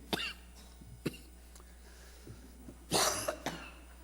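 Several separate coughs in a quiet church during a sermon: two short ones, a pause, then a heavier cough burst followed by a smaller one.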